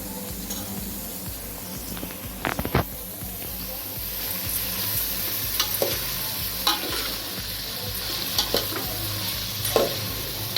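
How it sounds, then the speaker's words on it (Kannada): Chopped kohlrabi stir-fried in a pan for vegetable fried rice, with a continuous close sizzle and hiss under repeated scraping and clattering strokes of a spatula, plus a couple of louder knocks early on, and no voices. "ಇವಾಗ ಚಿಕ್ಕದಾಗಿ ಹೆಚ್ಕೊಂಡಿರೋಂಥ ಗೆಡ್ಡೆಕೋಸನ್ನ ಹಾಕಬೇಕು"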